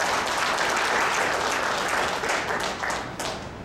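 Applause from the audience at a Gyeonggi-do tennis association delegates' general meeting, a dense, sustained round of clapping in an indoor hall that fades slightly toward the end.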